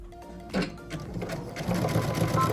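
A sewing machine stitches the seams of a fabric tissue box cover, running in a steady close-up whirr that briefly pauses and then resumes at a busier, slightly louder pace.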